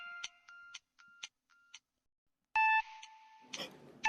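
A phone rings in a TV drama scene, with short electronic beeping tones repeating in a quick rhythm and then a longer, louder ringing tone near the end, clear and close against near silence.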